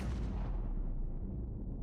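A single loud gunshot in Death Stranding booms close up and rolls away in a long, fading rumble.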